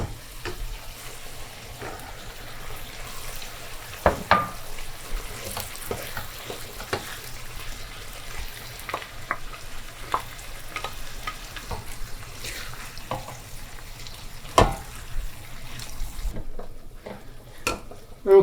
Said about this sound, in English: So right now I'm gonna add the mushroom and tomato puree.